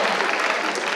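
Studio audience clapping for a quiz show contestant, a steady dense wash of applause filling the whole second at a strong even level.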